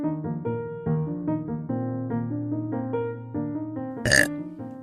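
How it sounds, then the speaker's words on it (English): A long, drawn-out burp after drinking soda, with a voiced tone that shifts pitch in steps for several seconds and ends in a brief rough burst. "I want to burp again, okay?"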